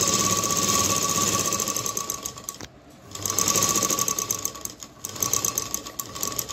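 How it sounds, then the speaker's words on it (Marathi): A sewing machine stitches a blouse sleeve lining in loud, steady running bursts with a brief pause in the middle. It runs alone with no talking. "तर आता मी शिलाई मारून दाखवते."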